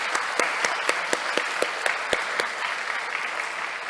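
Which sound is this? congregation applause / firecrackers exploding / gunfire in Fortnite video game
congregation applause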